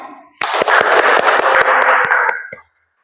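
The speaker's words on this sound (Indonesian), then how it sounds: "Beri tepuk tangan." Classroom applause from a group of students, a dense burst of clapping lasting about two seconds, loud and close, starting abruptly and ending cleanly with no talk over it.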